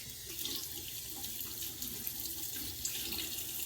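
Water runs steadily from a bathroom faucet into a sink as shaving lather is rinsed away after a shave, a continuous close splashing stream with no talking.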